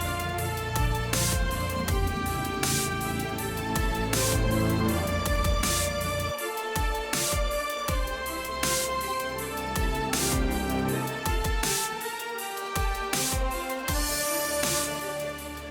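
Loud, driving orchestral game music with punchy rhythmic hits, dense brass and strings playing continuously at a steady, aggressive pulse.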